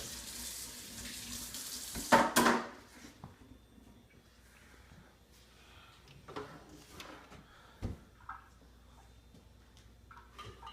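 A kitchen tap runs while pancakes are being made, a soft steady water flow with a louder burst near the start and scattered clinks and knocks around it.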